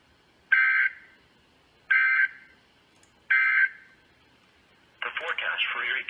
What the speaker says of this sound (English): This ends the test of the National Weather Service weather radio warning alarm.